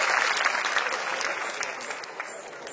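Audience applause at a Satana college gathering, steady and dense for the whole stretch with crowd noise mixed in, fairly close and sustained, with no voice over it.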